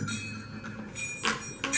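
A Mapuche cascahuilla, a rattle of small bells, shaken briefly, producing faint, bright metallic jingles that swell in two short bursts over a low background hum.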